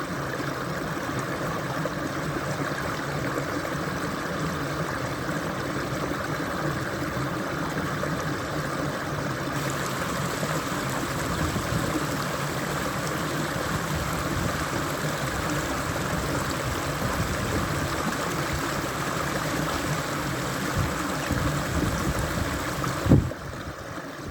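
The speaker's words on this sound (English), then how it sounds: "We might notice there's some water gushing over a few rocks." A stream of running water gushes over rocks outdoors in nature, a steady, full rushing wash that continues unbroken throughout, with a brief knock near the end.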